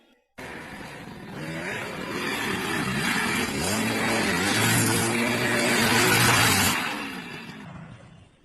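Loud engine revving close by, building steadily in pitch and strength over several seconds before cutting off, with no talk.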